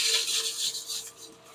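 An agate being ground on a wet flat lap built from a potter's wheel, giving a close, continuous gritty rubbing hiss that slowly fades over a second and a half, with a faint steady motor hum underneath.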